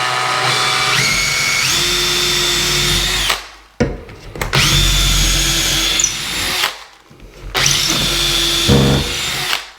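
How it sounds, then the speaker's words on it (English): A power drill bores a hole into a wall stud in three loud, whining bursts, with the motor pitch dipping under load and short silent pauses between the runs. "now we're going to drill the second hole in the middle of this stud"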